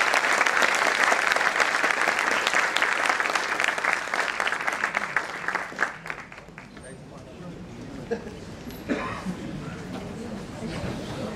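Warm audience applause for the speakers at a public lecture, dense clapping that thins out midway into scattered claps, with murmuring voices rising as it fades.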